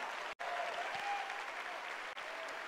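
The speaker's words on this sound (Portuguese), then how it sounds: "Você pode dar uma salva de palmas ao Senhor mesmo?" A church congregation gives a round of applause during a sermon. The clapping is steady and fairly soft, with a roomy crowd texture and two brief dropouts.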